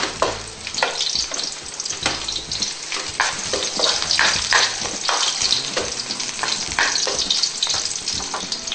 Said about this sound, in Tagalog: Lagyan natin yung sibuyas. Halo lang.